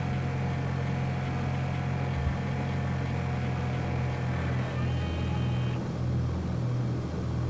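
Steady piston aircraft engine drone in the X-Plane 11 flight simulator during the climb after takeoff, a continuous loud hum with strong low harmonics and a slight shift in pitch as the throttle eases back.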